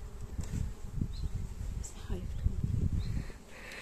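Honey bees buzzing around a hive in an apiary outdoors, a continuous close hum with rustling and soft knocks, as a voice talks faintly over it.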